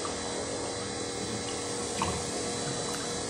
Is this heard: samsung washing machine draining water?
yes